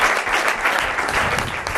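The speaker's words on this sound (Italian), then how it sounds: "applauso allora alle ragazze" Steady, dense applause from a crowd for young female gymnasts, close and continuous throughout the short stretch.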